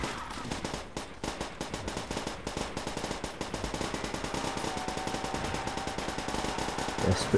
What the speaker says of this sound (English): Is it miniguns? It doesn't quite fire the same way as the death machine in old.